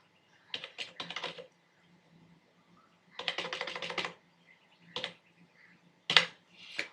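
Someone types an ID card number on a computer keyboard in quick bursts of close key clicks, with pauses between the runs and a final short flurry. Nobody speaks.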